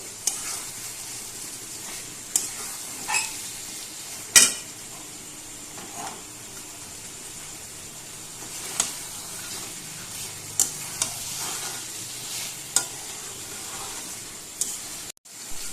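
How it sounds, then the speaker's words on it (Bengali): A dish is sautéed in a pan as its water cooks off: a quiet, steady sizzle broken by sparse sharp clicks and taps from a spoon against the pan, with no speech. "খুব ভালোভাবে কষিয়ে নিতে হবে একদম জল শুকিয়ে যাওয়া পর্যন্ত অপেক্ষা করতে হবে"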